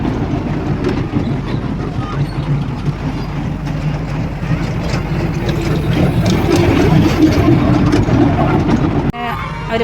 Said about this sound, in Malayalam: അങ്ങനെ ട്രെയിൻ വിട്ടിരിക്കുകയാണ്